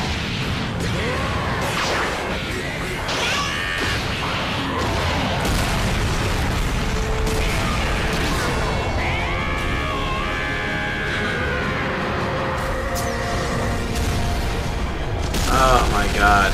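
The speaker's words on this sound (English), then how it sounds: "Don't use Ki Blast on him, obviously it doesn't work." Anime battle with Ki Blast energy attacks and explosions: dense rapid booms, whooshes and crashes layered over dramatic music, with a voice speaking over the chaos.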